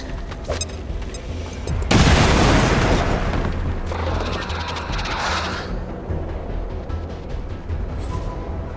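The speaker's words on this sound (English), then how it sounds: "Bombs away!" A heavy bombing run in XCOM 2 crashes in as a loud explosive boom followed by rumbling blasts and rolling detonations that fade into lingering debris noise.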